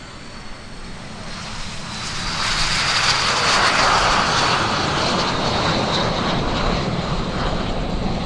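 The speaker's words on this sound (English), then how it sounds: "Coming at you from the right, the Black Diamond Jet Team, Diamond Takeoff." Black Diamond Jet Team L-39 Albatross jets taking off together in a diamond formation at the Lehigh Valley Airshow, a steady engine whine that swells into a loud, sustained roar as they pass close by.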